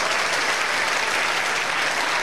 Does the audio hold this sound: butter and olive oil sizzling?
no